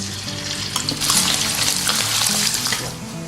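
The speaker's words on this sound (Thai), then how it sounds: "พอกระทะร้อนได้ที่แล้วนะคะ เราก็ใส่หมูสามชั้นลงไปเลยค่ะ" Pork belly sizzles loudly in a hot pan, a dense crackling hiss that swells as it is stirred, with a low background hum.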